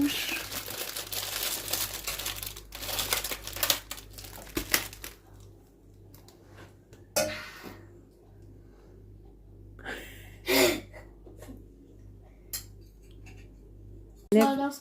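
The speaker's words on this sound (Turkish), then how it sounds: "İkisi tencere dibi sıyırıyor" Cutlery scraping the bottom of a cooking pot at home, giving intermittent metallic scrapes and clinks with some crinkling, close and moderately loud, under occasional talk and background household noise.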